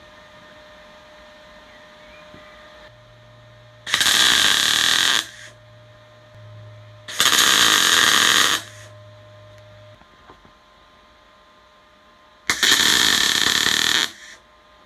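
Three bursts of harsh, steady hissing crackle, each lasting one to two seconds, come from welding a drill press part, with quiet hum and a low tone in the pauses between.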